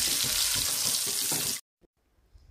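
Salted water splashed into hot oil where thin potato chips are frying makes a loud, hissing burst of sizzle that cuts off abruptly, followed by near silence with a few faint ticks.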